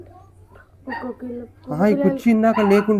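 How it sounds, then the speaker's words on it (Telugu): Street puppies yelp and bark at night in a village lane, thin high cries rising louder toward the end and mixing with people talking nearby. "కుక్క పిల్లలు అరుస్తున్నాయి"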